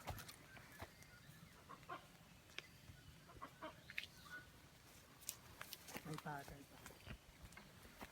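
Jungle fowl call in a forest on a Buddhist monks' pilgrimage walk, heard as a few short clucking bursts at a moderate distance among scattered rustles and light background noise.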